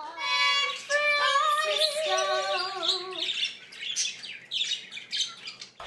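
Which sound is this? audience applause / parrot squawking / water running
parrot squawking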